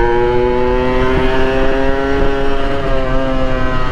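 A motorcycle on the road with a stiff, hard suspension setup hums along at a steady, close, loud engine drone, its tones holding level with a slight waver and no voices.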